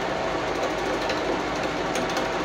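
A 7.5 horsepower biomass briquette making machine runs continuously with a dense, steady mechanical whir and rattle, loud and close throughout.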